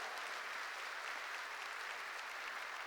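A church congregation claps together in a continuous, even burst, the many hands blending into a steady roar that fills the whole stretch with no voices on top.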